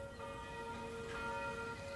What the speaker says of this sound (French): au village de Savagnier, les cloches ont sonné pour Eddy, décédé en pleine crise sanitaire.